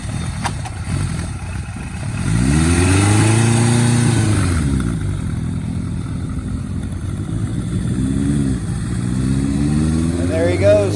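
A hot rod Kawasaki KZ1000 motorcycle revs loudly nearby and rides off, its engine note rising and falling through several gear changes as it pulls away, with a voice talking over it.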